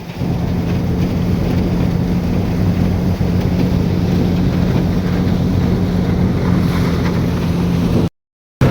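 A tractor engine runs in a peanut field, a loud, steady, unbroken drone with a low hum that carries on alone and then cuts off abruptly near the end.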